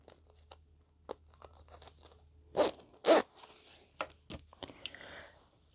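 Close, crisp zipper rasps and small metallic clicks, a few louder zips among scattered taps and fabric handling, with no talking, as a zipper is attached while sewing a boxy bag.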